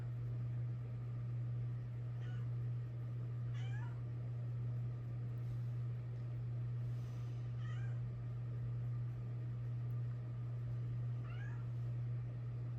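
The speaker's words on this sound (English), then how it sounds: "That's my cat." A pet cat meows indoors, giving several short, faint meows spaced a few seconds apart over a steady low hum.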